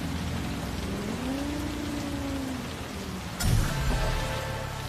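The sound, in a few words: rain falling in the video game Cyberpunk 2077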